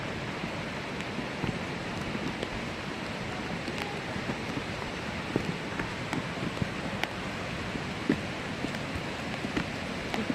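Rautwadi waterfall at Radhanagari in the monsoon: a faint, steady broadband roar from a distance, blended with rain and wind noise, with no voices.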